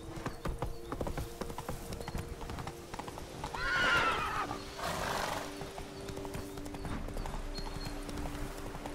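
Horse hooves clip-clop at a gallop in The Witcher 3, with a whinny rising partway through over a steady game background.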